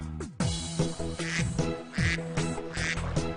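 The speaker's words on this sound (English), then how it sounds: "Mummy duck says, quack, quack, quack" Duck quacks sound over the music of a children's counting song about a mother duck and little ducks swimming on a pond, with repeated bursts in a bouncy rhythm and no speech.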